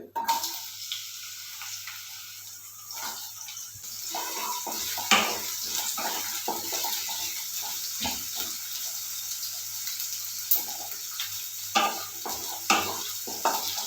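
Onions fry in a pan for egg rice, a soft continuous sizzle under repeated scraping and stirring clicks from a spatula, close and fairly quiet, with no talk.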